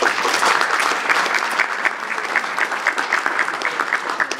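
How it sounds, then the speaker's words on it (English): Sustained applause from a summit audience greeting the President of Romania as host, dense and even throughout, with no talk over it. "Let's give him a big round of applause."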